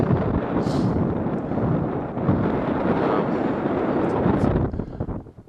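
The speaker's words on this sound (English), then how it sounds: "There's a southerly wind." Southerly wind blows across a Scottish hilltop on Ben Cleuch, buffeting the microphone's windshield with a steady, loud roar and rumble that eases off near the end.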